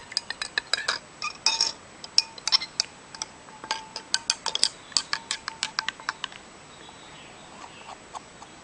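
Quick, irregular clinks of a spoon stirring detergent and ink solution in a container, close and fairly loud, with sharp metallic taps clustered for several seconds before thinning out into faint scraping near the end; no talking.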